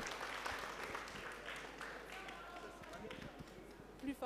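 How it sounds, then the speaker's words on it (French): Soft, distant clapping from an audience at a national meeting of working-class neighbourhoods as a speaker is called to the stage, faint and continuous with some talk in the room. "Je pense qu'on peut l'applaudir."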